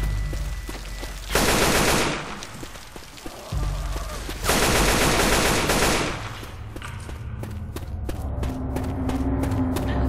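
Automatic gunfire in the zombie shooter Left 4 Dead 2, with loud sustained bursts of rapid shots and a stretch of quicker, sharper single pops between them, all close and dense.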